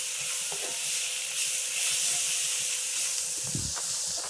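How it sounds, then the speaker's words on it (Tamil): Chopped garlic sautés in a skillet with fried onions for a chicken pepper fry, giving a steady broad sizzle and hiss with a few soft stirring knocks, close and continuous. "இப்போ நம்ம அதில் சாப் பண்ண பூண்டு போட போகிறோம். அதையும் சேர்த்து நல்லா வதக்கிக்கோங்க."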